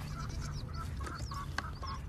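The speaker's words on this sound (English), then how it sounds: "One of the chickens is laying right now." A hen clucks repeatedly while laying an egg in a backyard hen house, with short rhythmic bursts of clucks and squawks over a low background murmur.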